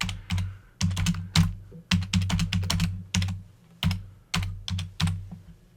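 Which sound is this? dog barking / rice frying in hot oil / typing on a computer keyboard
typing on a computer keyboard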